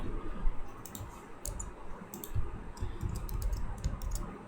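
Fast, irregular clicking of keys on a computer keyboard while code is typed, close and fairly clear, running steadily with no talking.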